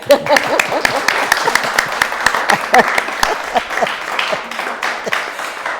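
Small audience clapping for third graders' poetry readings, a loose patter of individual hand claps with some crowd noise, moderately close and steady throughout.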